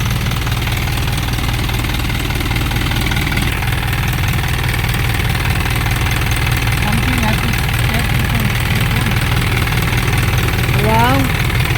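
A diesel Isuzu Elf truck with a 4HG1 engine idles steadily and loudly close by, a constant low rumble with faint voices in the background.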